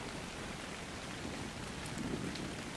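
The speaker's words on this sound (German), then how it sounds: "Jetzt regnet es wieder," Steady rain in the survival video game Ark Survival Evolved, a soft, even wash of hiss with a few faint drip accents, heard alone without talk.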